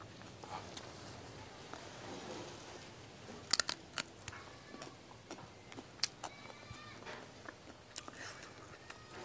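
Someone chews a raw, earth-covered dangshen root, a bellflower-family herb, producing sparse, faint crunchy bites and clicks close to the mic over a quiet background with little talk.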